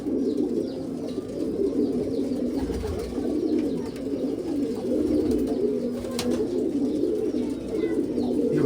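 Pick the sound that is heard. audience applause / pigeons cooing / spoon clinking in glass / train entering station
pigeons cooing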